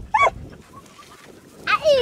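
A sheepdog on a farm in Babasesti, Satu Mare barks twice in sharp, close bursts, one near the start and one near the end, with a quieter stretch of background noise in between.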